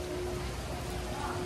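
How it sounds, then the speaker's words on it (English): Rain falls steadily outdoors at SeaWorld Orlando, a dense continuous hiss of drops on surfaces with no breaks. "It's raining out"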